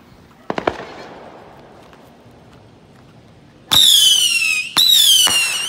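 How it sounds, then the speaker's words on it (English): A 200-shot missile battery firework fires green glittering-tailed rockets: a few sharp pops early on, then two loud bursts of dense, shrieking whistles and crackle, each lasting about a second or more. "200-shot missile battery with green glittering tails."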